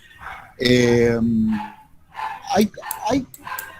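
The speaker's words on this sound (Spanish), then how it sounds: "Alguien dejó abierto un micrófono con el sonido de un perro" Dog barking picked up through an open microphone during an online workshop, a few sharp yelps and whimpering barks in quick succession over a moderately loud, slightly muffled background.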